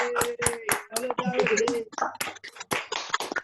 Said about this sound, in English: you all unmute yourselves and you give a round of applause to Mel, Tammy, Sahala, Mel, Julia, Alan, and